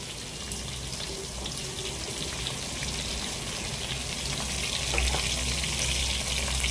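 Okra fries in a hot pan, a steady, close sizzle and crackle of oil that holds throughout and swells slightly near the end, with no one talking.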